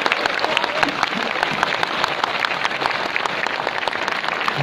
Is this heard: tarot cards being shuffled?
no